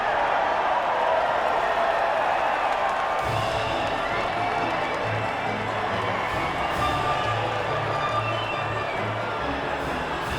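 A crowd cheers and applauds at the podium after the Bahrain Grand Prix in the F1 2019 video game, a steady broad roar with a low hum running underneath.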